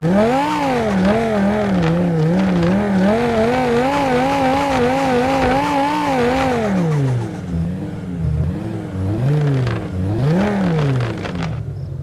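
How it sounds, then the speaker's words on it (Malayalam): A BMW M3 GTR engine in the video game Car Parking Multiplayer revs loudly and up close, its pitch rising and falling in long sweeps, then dipping and climbing again in shorter bursts, with no other sounds. "എന്തായാലും ഗൈസ് ഈ വണ്ടിയുടെ സൗണ്ട് ഇതാ കേട്ടോ"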